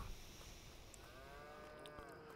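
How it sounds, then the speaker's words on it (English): A cow on a farm lets out a long, drawn-out moo from some distance, faint and alone against a quiet outdoor background. "Hi cows. Moo."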